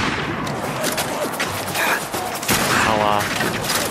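Gunfire in the video game Fallout 4 comes as dense, overlapping bursts of shots and booms, loud and continuous, with a voice briefly audible beneath the clatter.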